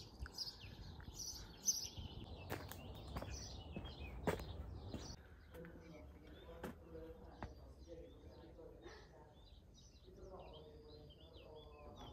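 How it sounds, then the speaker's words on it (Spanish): Several birds chirp and sing outdoors at a quiet early-morning retreat, bright calls scattered throughout with soft rustling and faint background noise. "Solo se escuchan los pájaros"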